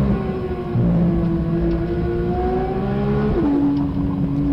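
A Porsche 992 GT3 accelerates hard on a rally stage, its engine note climbing steadily before one clear gear change and renewed pull, loud and close from inside the car, with no voices.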